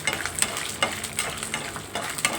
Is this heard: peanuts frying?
yes